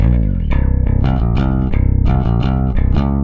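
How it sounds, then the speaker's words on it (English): A clean, dry bass guitar plays a plucked line of distinct notes, close and unprocessed, with no voices over it. "I'm going to help you get your bass DI that sounds like this"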